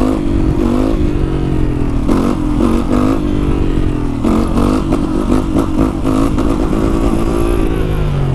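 A 125cc supermoto motorcycle cruises along a highway, its engine droning steadily and loud throughout with a constant, rushing wind and road roar and slight shifts in pitch.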